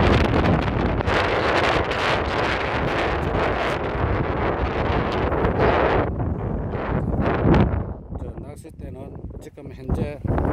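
Strong wind buffets the microphone outdoors at a seaside fishing spot, a loud continuous roar that dominates the first six seconds before easing into gustier, slightly quieter rushing.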